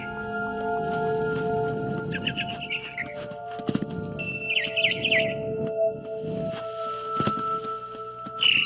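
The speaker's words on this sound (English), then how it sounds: "Then I heard chirping outside my window. It was a barn swallow going back to her nest." Barn swallow chirping in What Remains of Edith Finch, bright short twittering bursts at moments over a background of low rumbling, soft thuds and a sustained tonal music bed.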